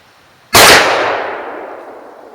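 A Glock 23 .40 S&W pistol fires a single 135 grain Nosler round, one loud, abrupt report that rings out and decays slowly across a couple of seconds in an otherwise quiet setting.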